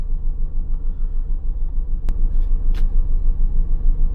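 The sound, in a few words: traffic jam, cars on road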